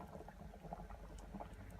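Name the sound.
egg curry boiling in a pot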